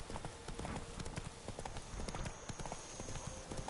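A horse galloping in the video game The Witcher III: Blood and Wine, with rapid rhythmic hoofbeats in a steady clip-clop, close and loud over game ambience, with a voice briefly urging it on.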